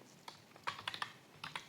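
Keys clatter on a computer keyboard while C code is entered, a few separate clicks and then short quick bursts of typing, close and clear with no talk.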